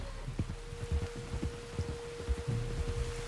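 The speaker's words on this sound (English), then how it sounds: "You were right about the damn rain." Rain falls steadily in the video game Red Dead Redemption 2, with soft patters and scattered drops over a low constant background hum and no talk.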